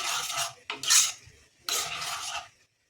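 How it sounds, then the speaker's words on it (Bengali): Chana dal with ghee being stirred in a pot, a spoon scraping and clinking against the metal in two close bursts separated by a short pause, with no talk. "ঘি দিয়ে ভালো করে নেড়ে নেব।"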